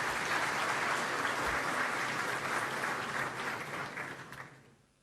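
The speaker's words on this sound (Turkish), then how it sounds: "Alkışlarınızla." Dense, steady applause from a large crowd, loud and sustained, then tapering off toward the end.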